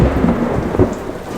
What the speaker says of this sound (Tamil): என்ன மழை பெஞ்சிட்டு இருக்கு. இன்னைக்கு நைட்டு பூரா பெய்யும் போலாம்.